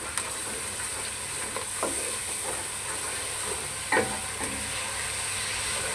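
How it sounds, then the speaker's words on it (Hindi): Spice masala for chickpea curry frying in a pan, a steady soft sizzle and hiss with occasional stirring scrapes, fairly quiet and without talking. "इसको अच्छे तरीके से आपने भून लेना"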